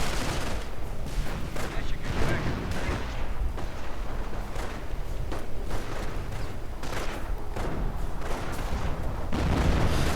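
Continuous WWII strategy game battle din: artillery booms and bursts of gunfire and machine-gun fire crowd together through the whole stretch, loud and dense, with a faint voice now and then under the barrage.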